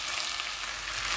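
Rice sautés in butter oil in a pot, giving a steady soft hiss and fine crackling sizzle, close and even throughout the short stretch with no talk.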